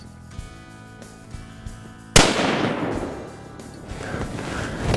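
A single sharp gunshot cracks out at a buck from a hunting ladder stand, loud and sudden after quiet woods, its echo rolling away for a couple of seconds.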